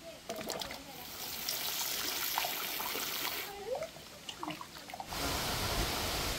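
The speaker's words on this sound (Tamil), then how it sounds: "ஃப்ரெஷ்ஷாக மீனை வாங்கி கழுவுறேண்ணா." Fresh fish being rinsed under running water, with steady splashing and trickling close by and bursts of flow; a voice speaks briefly over the water.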